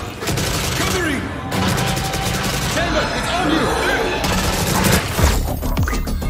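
Gunfire from a Valorant game trailer rattles in dense bursts of shots and crashes under a thick layer of music and effects. The chaotic barrage keeps going loud the whole time, with heavier booms now and then.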